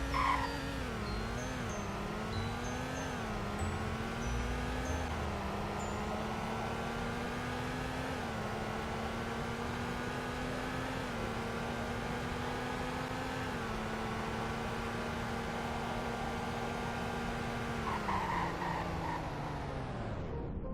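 A car in the Roblox game Greenville runs a 0 to 100 braking test, its synthetic engine tone climbing through several gear steps, holding high, then sliding down as it brakes to a stop, steady and alone.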